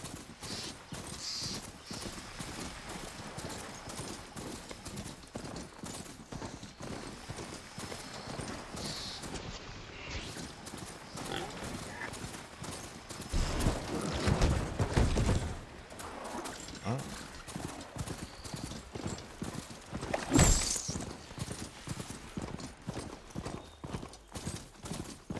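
A robotic horse mount gallops in Horizon Forbidden West, a steady rapid clip-clop of metallic hoofsteps running throughout, with louder bursts midway and near the end, under occasional talk.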